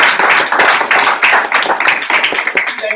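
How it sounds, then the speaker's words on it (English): An audience at a talk applauds, a dense burst of close, loud hand clapping that holds steady for a few seconds. "how about we give Lynn a bigger round of applause?"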